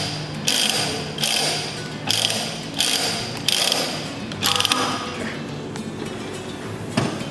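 A threading die is turned on a galvanized pipe, the handle ratcheting in a series of about six evenly spaced metallic clicking bursts, close and moderately loud, without speech.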